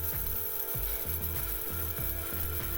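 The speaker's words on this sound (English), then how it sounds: "If you can, grind your black pepper freshly using a mortar or a spice grinder." Black pepper is ground in a spice grinder, producing a rhythmic, close, gritty crunching that repeats about twice a second, steady and alone.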